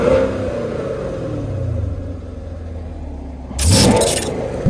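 A hail-damaged Camaro SS idles with a low exhaust rumble in touring mode, then a brief sharp rev near the end rises loudly before settling.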